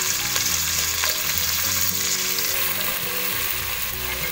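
Ginger garlic paste sizzles steadily in a hot pan of oil for egg biryani, a dense continuous frying hiss with faint stirring scrapes, close and fairly loud throughout.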